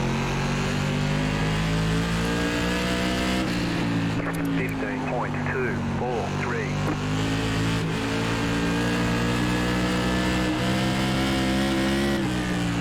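A NASCAR Whelen Tour modified race car in iRacing at Concord Speedway holds a loud, steady engine drone under throttle, its pitch rising and dipping slightly as the driver feathers the pedal, with a voice talking over it.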